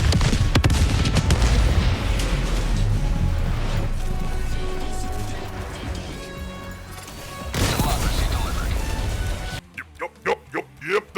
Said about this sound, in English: Yep, that's a stick bomb.